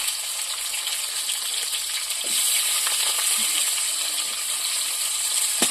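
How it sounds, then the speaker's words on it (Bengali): Diced onions hit hot oil in a pan and fry with a steady, close hiss. A few faint clinks and stirring touches come through, and the sizzle grows a little louder partway through. "তেলটা গরম হয়ে গেছে, এবার দিয়ে দেবো পেঁয়াজ কুচনো, ডুমো ডুমো করে পেঁয়াজ কাটা।"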